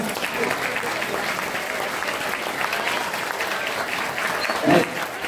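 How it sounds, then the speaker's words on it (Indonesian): Children and adults clap together at an Isra' Mi'raj gathering, a dense, loud, continuous round of applause that fills the room without pause, with a brief bump near the end. "Tepuk tangan bagi Allah"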